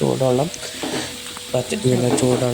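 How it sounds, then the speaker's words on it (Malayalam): Hot water hisses and sizzles as it is poured into a hot pot of vegetable biryani, a loud bubbling burst that eases off briefly and then surges again. "എന്നിട്ട് അതിൻ്റെ മേലെ നമ്മൾ ചൂടുവെള്ളം ഒഴിക്കുകയാണ് ചെയ്യുന്നത്"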